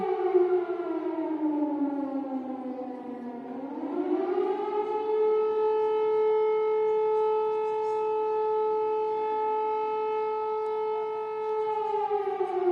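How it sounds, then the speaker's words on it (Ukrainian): An air raid siren wails over Mykolaiv, its pitch dipping low and then rising to a long, steady held tone that carries on loud and alone without voices. "В Миколаєві повітряна тривога."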